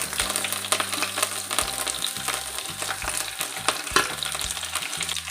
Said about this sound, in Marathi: आपल्याला छान असं परतवून घ्यायचं आहे।